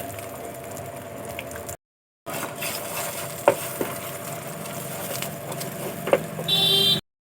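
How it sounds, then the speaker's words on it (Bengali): Egg bhujia, a lightly salted Bengali egg scramble, fries and is stirred in a pan with a steady close sizzle and scraping strokes. A brief silent gap breaks it, then a louder hiss swells near the end. "আমি এখানে একটা ডিমের ভুজিয়া করে নেব"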